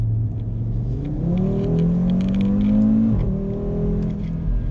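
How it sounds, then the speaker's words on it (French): A 2018 Audi RS3 engine revs up and pulls hard at night on mountain roads, its pitch climbing steadily then dropping at a gear change before rising again, loud and close, with no talking. "J'espère que vous appréciez le bruit du moteur, j'espère que vous l'entendez bien surtout."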